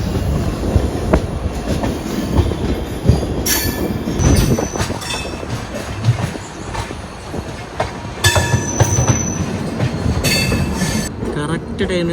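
An LHB passenger train runs on a main-line track, heard from on board as a loud steady rumble with rhythmic wheel clatter and occasional high squeals.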